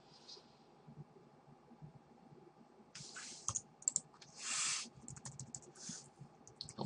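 A computer keyboard is typed on in quick bursts of close, crisp clicks and key taps after a quiet stretch, with no talking.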